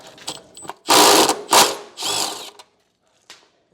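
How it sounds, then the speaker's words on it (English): A 12mm socket on a power tool spins bolts out of a 2022 Toyota Tundra, giving a few loud close whirring bursts of about half a second each, separated by short pauses and ending with a faint brief tap. "I'm going to take out the hardware that is in the vehicle already with a 12mm socket"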